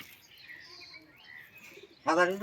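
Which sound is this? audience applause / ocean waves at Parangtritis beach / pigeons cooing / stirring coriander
pigeons cooing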